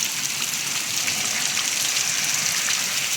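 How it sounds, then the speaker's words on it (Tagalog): Heavy rain pours steadily during a flood in the UAE, a dense, loud, unbroken hiss of drops hitting surfaces close by, with no voices over it. "Grabe ang ulan."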